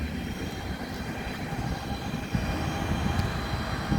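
A train rumbling past near Guildford train station, a steady loud low roar that swells slightly halfway through, with no voices.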